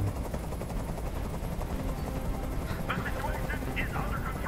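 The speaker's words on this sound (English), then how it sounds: "I can't stand that noise anymore. Tell that helicopter to get out of here." A helicopter in the video game Detroit: Become Human keeps up a loud, steady rotor thrum for the whole stretch, with sharp burst-like hits layered over it.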